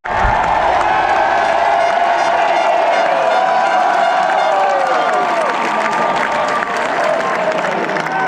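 A huge outdoor crowd at the Washington Capitals 2018 Stanley Cup championship rally roars and claps as goaltenders are introduced, a loud unbroken swell of cheering and applause with a PA voice ringing briefly at the start.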